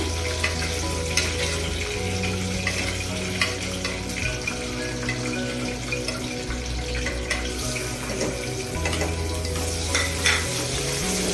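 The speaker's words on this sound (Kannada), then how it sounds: "ಸ್ವಲ್ಪ ಈರುಳ್ಳಿ ಬ್ರೌನಿಶ್ ಆಗಬೇಕು. ಸ್ವಲ್ಪ ಬ್ರೌನ್ ಕಲರ್ ಬರೋವರೆಗೂ ಎಣ್ಣೆಯಲ್ಲಿ ಬಾಡಿಸ್ಬೇಕು." Chopped onions sauté in hot oil, browning in a pan for a spiced rice dish, with a steady sizzle and frequent stirring scrapes, plus a running background hum throughout.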